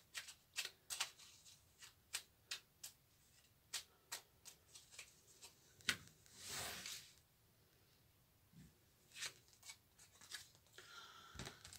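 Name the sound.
shuffling and drawing angel cards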